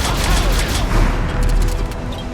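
Rapid turret gunfire blasts in a Mass Effect 3 battle against Cerberus forces, a dense, continuous barrage of loud overlapping shots and booms with a voice faintly underneath.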